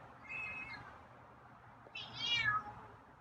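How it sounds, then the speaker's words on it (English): A feral cat lets out two drawn-out meows, the second louder and higher, in a quiet room with nobody speaking. "Got some loud meows for me tonight."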